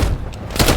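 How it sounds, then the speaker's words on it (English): A shotgun blast booms in Call of Duty Cold War hardcore mode, a single heavy burst of gunfire with a dense low thump amid ongoing game noise. "I missed that shotgun blast."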